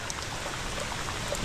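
Steady rain pouring down outdoors, a dense continuous hiss of drops with no break, close and fairly loud.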